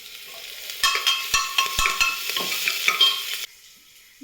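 Ginger, garlic and curry leaves sizzle in hot oil in a pan while a spatula scrapes and stirs in quick irregular strokes, close and fairly loud, until the sizzling cuts off near the end.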